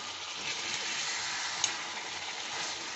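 Chicken do pyaza cooking in a pan, giving a soft, even sizzle of oil that runs steadily throughout with faint stirring, one brief sharp tick partway through.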